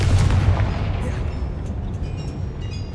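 A Confringo blasting spell explodes in Hogwarts Legacy, a dense, rumbling blast whose deep boom fades slowly over a few seconds.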